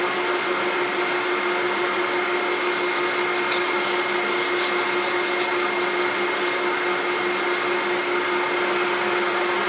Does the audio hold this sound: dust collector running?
yes